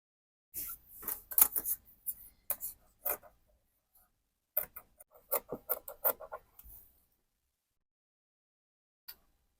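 Scissors snip through fabric for a kimono jacket pattern in short, crisp bursts, close and quiet, with pauses between cuts and a final lone snip after a long silence.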